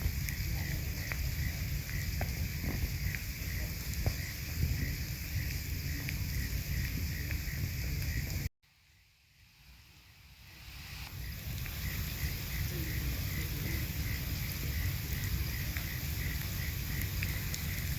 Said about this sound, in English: it's raining, so we won't be doing that today